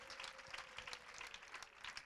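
A church congregation at a prayer gathering claps together in a soft, distant patter of many hands, steady and fairly quiet throughout.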